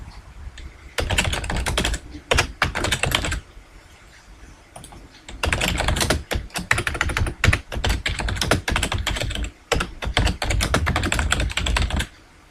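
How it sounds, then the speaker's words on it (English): Steady typing on a computer keyboard, loud and close, with bursts of rapid key clicks separated by short pauses and heavier thumps, likely the space bar or enter key, with no voices. "I'll press enter and type bank on the next line"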